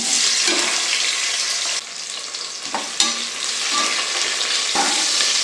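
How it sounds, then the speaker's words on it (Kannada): Loud, continuous sizzling of onions frying in hot oil for tempering a vegetable bath, with a few clinks of stirring. "ಎಣ್ಣೆ ಬಿಸಿಯಾಗಿದೆ ಈರುಳ್ಳಿ ಹಾಕ್ತಾಯಿದ್ದೀನಿ"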